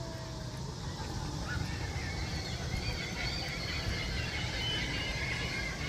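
Flamingos cackle and honk at a zoo on a busy holiday outing, a steady, dense chorus of squealing calls that continues without break under a constant crowd murmur.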